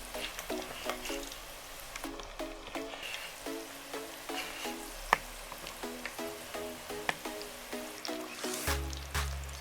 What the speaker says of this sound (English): So let them start frying.